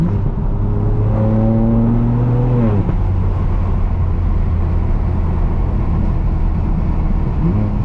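A straight-piped BMW M4 F82 on twisting mountain roads drones loudly as its engine climbs in revs, then drops sharply at a gear change before settling into a steady, gravelly roar heard from the cabin.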